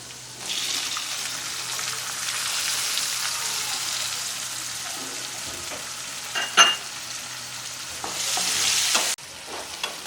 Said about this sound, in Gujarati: આ બધી વસ્તુ સારી રીતે સતળાઈ જાય એટલે એમાં નાખી દઈશું ટામેટાં